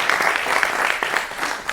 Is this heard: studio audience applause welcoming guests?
yes